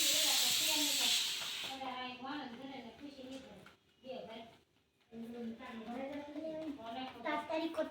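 A pressure cooker whistles, a loud hiss of steam at the start that cuts off after a second or two, followed by people talking close by in a home kitchen.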